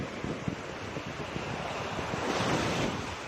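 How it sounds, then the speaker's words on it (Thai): Sea waves wash onto a beach on Koh Phangan, a steady, close roar of surf with wind buffeting the microphone throughout. "ดูคลื่นครับ"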